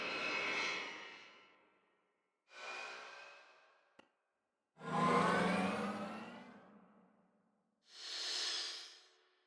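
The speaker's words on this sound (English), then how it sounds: "the layers that give it a sense that it has a jet functioning in the back of it" Layered sci-fi vehicle sound design with a jet-like engine running behind it: four separate whooshing, roaring swells of rising and falling intensity, the third deepest and loudest, with no talking.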